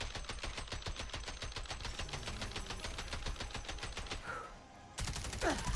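Holger-26 machine gun from Fallout 4 firing on full auto, a long unbroken stream of rapid, evenly spaced loud shots that cuts off abruptly near the end, followed by a brief hiss and one more burst of noise.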